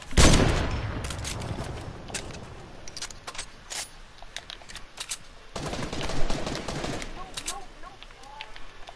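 Rapid automatic gunfire in a shooter video game, dense bursts of shots that open loud, thin out midway and then surge again, mixed with clattering and a few tonal effects.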